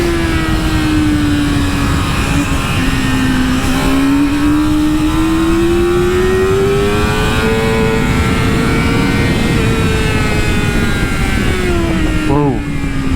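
A 2018 Yamaha YZF-R6 sport bike screams around a race track, its engine holding a high, smooth whine that slowly climbs in pitch with a brief drop near the end, loud and continuous throughout.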